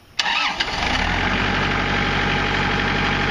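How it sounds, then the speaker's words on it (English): A four-wheel-drive Kubota L4200 loader tractor with a cab cranks briefly, catches and settles into a steady, close diesel idle that runs on alone. "L4200 loader tractor. It's four-wheel drive,"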